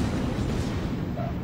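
Gneisenau battleship guns firing in World of Warships, a heavy booming blast with rumbling low end that rolls and decays over a second and a half, no voices.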